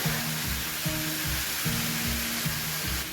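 Boiled potatoes and mutton frying in a pan for mutton fry, a steady close sizzle with a repeating low hum from the stove running underneath.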